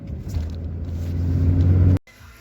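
A manual-transmission car engine revs up steadily with a deep, growing rumble like a dump truck, then cuts off abruptly, leaving quieter idle-like noise; close and loud, no voices.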